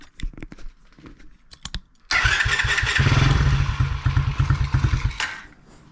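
A Tao Tao DB10 dirt bike engine catches after a few brief tries and settles into a loud, steady idle with a rapid mechanical chatter.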